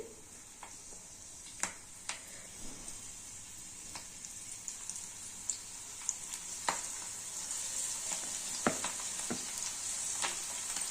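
Cabbage pakoda batter fries in hot oil, a steady close sizzle punctuated by sharp pops and crackles at irregular intervals, with no voices.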